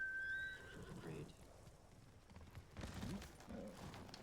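A horse whinnies briefly at the start in the video game Ghost of Tsushima, followed by soft hoof steps and rustling ambience at moderate volume, with no speech over it.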